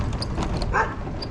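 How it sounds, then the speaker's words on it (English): A dog barks a few times in a residential neighborhood, moderately distant and partly masked by steady outdoor background noise, with no speech over it. "I hear a dog."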